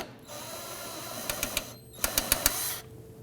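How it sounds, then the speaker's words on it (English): A socket wrench ratchets while loosening and removing a bolt near the fuel filler neck of a 2008-2011 Ford Focus, giving two close, crisp bursts of rapid clicks over a quiet background. "Use your socket, loosen and remove that."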